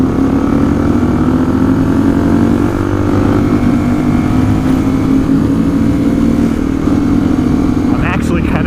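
A Honda XR400 dirt bike engine runs steadily at a loud, constant drone while being ridden, with voices talking over it throughout.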